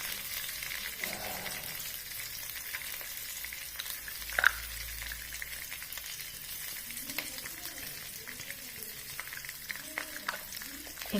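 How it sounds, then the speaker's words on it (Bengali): Green peas with asafoetida and cumin frying in a little oil for a vegetarian dish, a continuous low crackling sizzle with scattered pops and an occasional stir, close and quiet throughout. "আমি এটাকে একটু ভেজে নেব"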